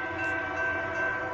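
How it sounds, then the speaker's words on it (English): A northbound BNSF coal freight train with an ex-BN locomotive rolls past on the main track, a loud sustained tonal drone with rumbling wheels and horn-like harmonics, close and continuous throughout. "There's a freight train."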